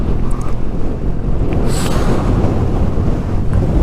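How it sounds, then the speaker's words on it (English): Heavy wind buffeting a microphone on a Suzuki GSX-S750 motorcycle while riding, a loud continuous low roar with gusty surges and no talking. "That's windy."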